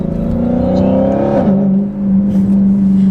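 A 2019 Dodge Challenger Widebody Hellcat Redeye engine revs loudly and close by, rising in pitch and then settling into a steady deep idle drone, with no voices over it.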